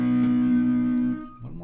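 A short slide guitar lick in open E tuning: a sustained, gliding note rings loud and steady for about a second, then drops away and is followed by a couple of softer slid notes, with no talking.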